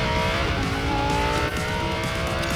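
A Lamborghini Gallardo in the racing game Racing Master drives at speed, its engine a loud, steady droning whine with layered tones and faint tire noise, continuous throughout.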